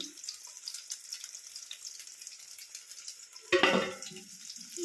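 Eggs fry in hot oil for egg curry, a soft continuous sizzle close by, with a brief louder burst of spattering near the end.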